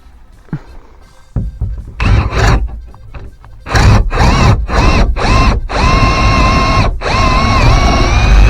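A power drill bores into a window frame with a long bit, starting with a few short trial bursts and then running in longer loud, close whirring spells broken by brief pauses.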